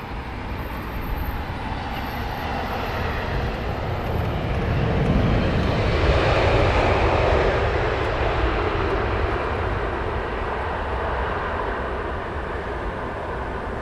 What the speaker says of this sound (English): over the threshold right now we have British Airways 777